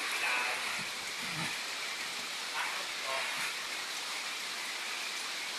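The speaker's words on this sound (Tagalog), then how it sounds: "Lakas ng lakas ng ulan" Steady, dense hiss of heavy rain pouring down, continuous and even throughout.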